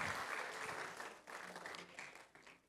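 A church audience claps in a brief, faint burst that thins out toward the end.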